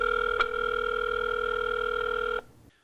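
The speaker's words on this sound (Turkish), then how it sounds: "Şimdi o telefon numarasını arayacağız." A steady telephone dial tone holds for about two and a half seconds as a number is being called, with a brief click near the start, then cuts off abruptly into near silence.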